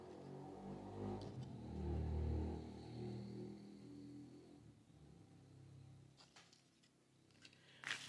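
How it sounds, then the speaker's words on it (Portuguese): A motorcycle passes at a distance outdoors, its engine drone swelling to a low rumbling peak and then fading away, faint beneath the surrounding ambience. "Aí vem a moto."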